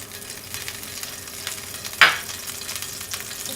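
Oil sizzles in a frying pan with a faint, steady hiss and one brief sharp clink partway through; no one speaks.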